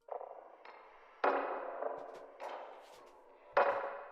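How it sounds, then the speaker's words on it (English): A percussion loop of sharp metallic hits and clangs with ringing tails, repeating in an uneven pattern, moderately loud and alone. "this is what the perk loop sounds like"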